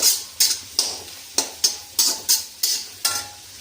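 Pasta tossed in a pan with sweet chili powder and salt, frying in butter, with eight or nine sharp, evenly spaced stirring scrapes over a low background sizzle; no talking.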